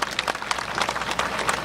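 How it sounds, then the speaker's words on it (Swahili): A crowd at an outdoor public ceremony in Kyela applauds the TARURA road agency for building a bridge, with brief, dense, steady clapping from many people. "Naomba tuwapigieni makofi mengi sana"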